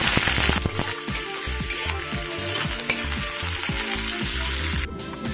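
Sliced onions and slit green chillies fry in hot oil with the five-spice tempering for an Odia beans and potato bhaja, giving a loud, steady close sizzle and crackle that fades slightly just before the end.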